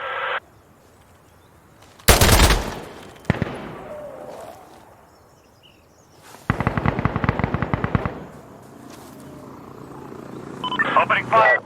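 Gunfire in the video game Insurgency: Sandstorm, with loud bursts of automatic fire separated by quieter stretches and a single sharp shot, alongside players talking over radio.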